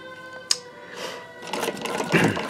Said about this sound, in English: using the low voltage 24 volt sewing machine motor